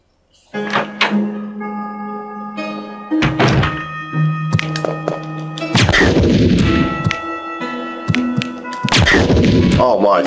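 Gunshots in Resident Evil Director's Cut: several loud, booming handgun reports spaced a few seconds apart, each with a short ringing tail, over sparse game music and ambience.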